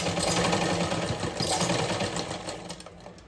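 A sewing machine stitches fabric during a tailoring lesson, a close, steady rapid mechanical whirring and clatter that runs continuously, easing off slightly toward the end, with no talking.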